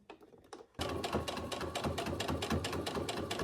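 A sewing machine stitches fabric for a memory bear, starting after a few faint clicks and then running as a fast, even mechanical chatter, close and clear.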